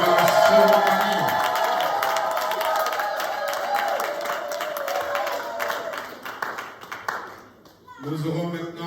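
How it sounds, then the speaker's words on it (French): Wedding ceremony guests cheer, clap and whoop loudly in a sustained burst that fades near the end, then a voice comes in over the tail. "Acclamez très fort pour la cérémonie."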